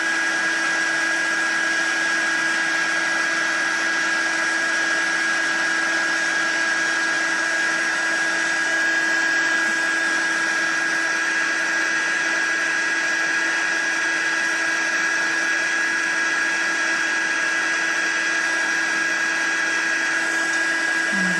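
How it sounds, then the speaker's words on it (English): A Stampin' Up! embossing heat tool runs steadily for the whole stretch, a loud, constant blowing whir with a fixed electric whine and no pauses or talk. "the heat tool is pretty much heated up"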